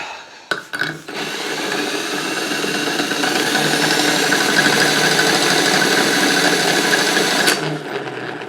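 A power drill spins the transmission axles of a Toro LX500 lawn tractor, starting after a couple of clicks and running as a steady, loud whine with harmonic tones for about six seconds before it stops.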